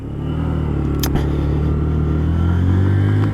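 A Lexmoto Assault motorcycle engine drones loudly and steadily while riding on a test ride, with a rising pitch as it revs and accelerates toward the end and a brief rushing noise near the start.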